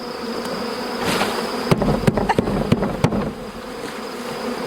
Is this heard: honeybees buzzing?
yes